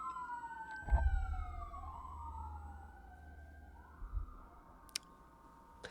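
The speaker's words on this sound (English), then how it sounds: "hopefully that siren wasn't too loud" An emergency siren wails and sweeps up and down as it passes outside, fairly faint and distant, with a few thumps and clicks nearby.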